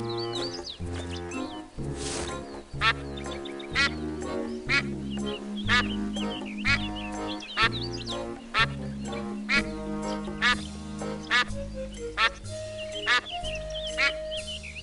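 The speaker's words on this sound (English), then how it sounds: "What kind of weird duck are you?" A duck in the Escape from Monkey Island video game quacks over and over in a nasal, rhythmic string of quacks, set against a steady game backdrop.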